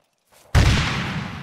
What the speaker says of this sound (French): Pas mal la grenade, les gars.